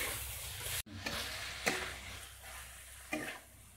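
A spoon stirs pointed gourd (potol) curry in hot oil, scraping the pan in several distinct strokes over a soft, steady sizzle, close by with no talk.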